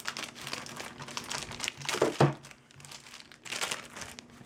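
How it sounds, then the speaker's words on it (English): Plastic wrap crinkles and rustles close by as it is pulled off a SimplyGlobo SV-S350 Plus portable speaker, in irregular bursts with one sharper crackle midway. "let's take it out of this plastic wrap and see what it has on it."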